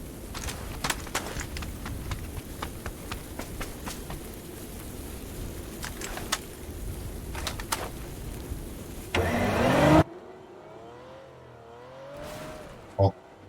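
Car engine in the video game PUBG, a steady low drone of a vehicle being driven with sharp clicks over it, followed by a brief rising rev; a voice speaks near the end.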